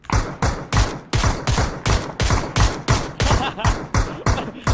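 Rapid bursts of loud gunfire in PUBG repeat in a steady rhythm, shot after shot close by, with little else audible.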